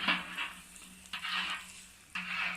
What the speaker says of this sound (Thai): เราเอาพิมพ์แช่ในน้ำมันที่ร้อนๆนี่นะคะเพื่อน